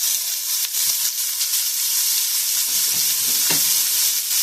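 Sausage fries over medium heat in a fat-slicked skillet with a steady, loud sizzle, while a few stirring scrapes cut through the crackle.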